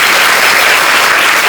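A short, loud burst of many hands clapping together from worshippers at a devotional prayer gathering, dense and continuous with no voices.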